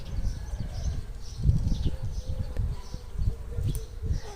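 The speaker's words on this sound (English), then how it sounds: "And by the way, here you can see bee." Bees buzz around beehives in a garden among cherry trees, a steady close hum of many insects with rising and falling swells and faint rustling, no voices.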